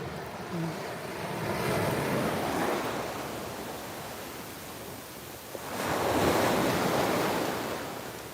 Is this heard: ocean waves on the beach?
yes